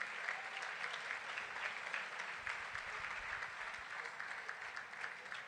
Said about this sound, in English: Can we keep the applause going? A round of applause for our speaker.